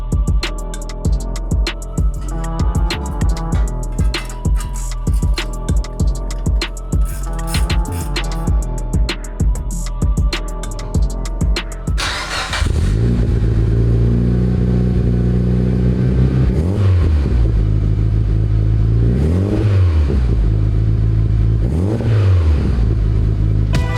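Mitsubishi Evo with a new full steel 3.5-inch exhaust replacing a titanium catback, revving hard in sharp repeated bursts for about twelve seconds, then settling into a loud, deep, steady drone with rising swells, close by.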